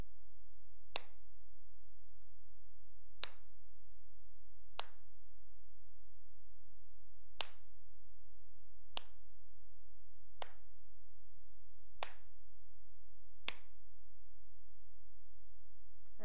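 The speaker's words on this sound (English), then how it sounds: "I've made one clap." Eight sharp, single claps ring out at roughly even intervals, each crisp and isolated against a quiet, humming background.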